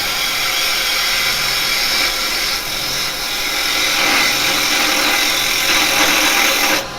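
A woodturning lathe cuts steadily across a firewood blank, giving a continuous loud, bright scraping whir that holds for several seconds with slight swells, then drops off at the end.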